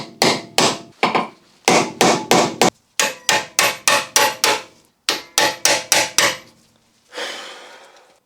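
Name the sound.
hammer striking impact screwdriver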